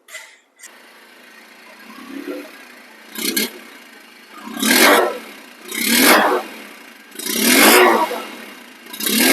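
A used motorcycle engine revs in four or five rising, surging bursts separated by a steady idle, loud and close with no talk.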